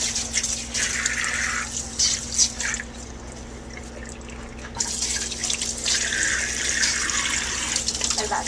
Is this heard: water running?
yes